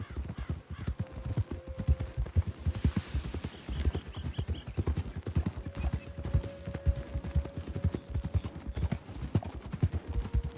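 Horses' hooves clip-clop in the Red Dead Online video game, a busy, rhythmic patter of several riders close by with occasional faint tones and no clear talk.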